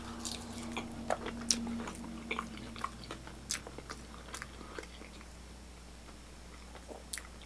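Someone eating disco fries with mozzarella and gravy at a New Jersey diner, close soft chewing and wet bites with scattered utensil clicks, quiet and intermittent, no talking.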